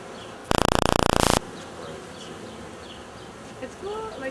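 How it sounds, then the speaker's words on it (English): A swarm of honey bees clusters in a big ball in a Vancouver backyard, producing a constant loud buzzing drone. People talk partway through. "It's crazy loud."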